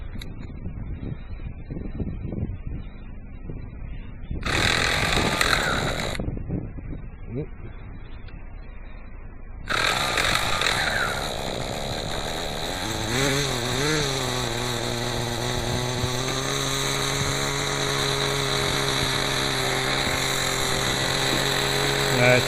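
A nitro .18 RC helicopter engine starts after short false starts, then runs steadily with a loud, close, high buzzing whine whose pitch shifts as the idle is adjusted.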